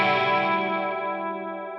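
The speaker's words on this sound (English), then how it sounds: "The chorus is coming right after our drive" Sustained electric guitar chord run through a drive pedal into a chorus pedal, gritty distortion with a wavering shimmer, ringing loud and slowly decaying on its own.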